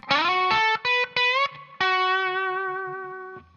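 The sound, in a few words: electric guitar blues lick with string bend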